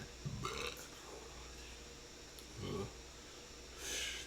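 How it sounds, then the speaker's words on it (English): Someone belches during a casual talk show, with low guttural burps near the start and again around the middle, followed by a breathy exhale, all fairly quiet and close. "Getting them belches in, I guess."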